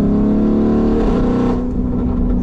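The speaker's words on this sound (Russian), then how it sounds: "компьютер запрограммирован так, что выхлоп слышно всегда в одной и той же манере" A Mansory Venatus Lamborghini Urus with a computer-programmed exhaust note roars loudly and close as it downshifts, its engine tone shifting and then dropping off sharply partway through.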